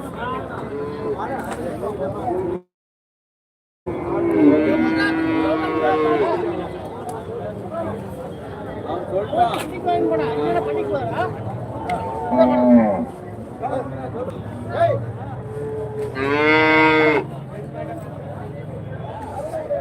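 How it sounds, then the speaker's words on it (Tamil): Cattle moo repeatedly at a native-breed cattle market in Karimangalam, long harmonic calls rising over a busy crowd babble, with people talking and shouting nearby throughout. "இங்கே தான் வந்து நாட்டு மாட்டு சந்தை"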